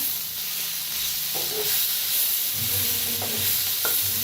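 Eggs roasting with coriander in a pan, giving a continuous bright sizzle and hiss with occasional soft scrapes and taps of a spatula stirring.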